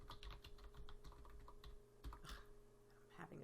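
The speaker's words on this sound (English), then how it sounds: "I'm having trouble typing today." Keys clatter on a computer keyboard in quick irregular bursts, close and fairly faint, with a low steady hum underneath.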